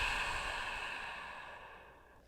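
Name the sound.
deep exhale during yoga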